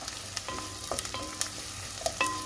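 Green chili stirred and fried in a pan, a soft steady sizzle under repeated scraping and clinking of a utensil against the pan, close by with no talking.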